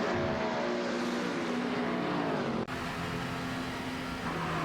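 SCG 003C and BMW M6 GT3 GT race cars from a racing video game roar steadily with high, sustained engine tones at close range, broken by a brief dip as one shifts or passes before the engines resume.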